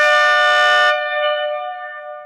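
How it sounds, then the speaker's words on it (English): A car fitted with aftermarket train-style horns gives one loud, blaring multi-tone blast that cuts off after about a second, its chord ringing on and echoing away. "They're train horns."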